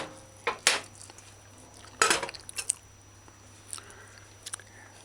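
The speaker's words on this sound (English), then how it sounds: "you can toss it and turn it and stir fry" Food being tossed and stir-fried in a saucepan on the stove while cooking General Tso's chicken, giving a few scattered scrapes, clinks and wet shuffles with quiet pauses between them.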